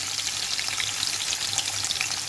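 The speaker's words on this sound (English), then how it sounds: "Next goes in the garlic, and green chilies," Garlic and green chilies frying in hot oil with mustard and cumin seeds, giving a steady, close, even sizzle that holds for the whole short stretch with no talking.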